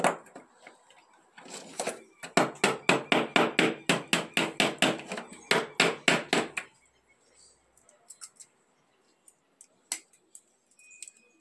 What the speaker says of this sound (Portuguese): Pego um martelo.